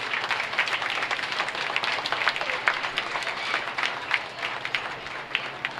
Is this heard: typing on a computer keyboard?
no